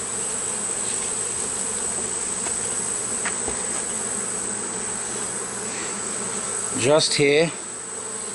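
Honey bees from a hive under inspection make a steady, dense buzz throughout, close and continuous, with a brief spoken comment near the end over the hum.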